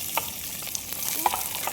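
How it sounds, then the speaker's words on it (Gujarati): Chopped onion sizzles steadily in hot oil while a spoon stirs it, with close, light scraping clicks against the pan over a continuous frying hiss. "ચલો ડુંગળી નાખી દીધી આપણે. જરા ચમ્મચ લઈ આને ફેરવાની"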